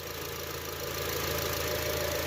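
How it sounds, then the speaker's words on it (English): A 2007 Honda CR-V engine idles steadily after a stalling fault was fixed, giving a close, even low rumble with a faint knocking pulse throughout and no talking. "It doesn't stall out anymore, just like how it's idling here."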